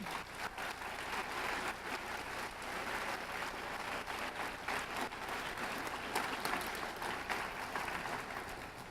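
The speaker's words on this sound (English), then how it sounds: "you can clap for them" Steady applause from a large crowd at a high school science bowl championship, continuous and even, heard from some distance at a moderate level.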